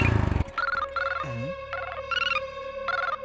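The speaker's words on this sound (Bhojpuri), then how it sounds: "रुका फोन आवता।" A telephone ringtone plays as a repeating melodic electronic tone in short bursts, loud and clear after a brief low rumble at the start, with no voices over it.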